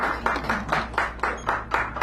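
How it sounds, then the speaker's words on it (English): Small audience at a Sacred Grounds Cafe poetry reading in San Francisco clapping for poet Clara Sue, a few people clapping in a steady, moderately paced rhythm with no talk. "give her a round of applause"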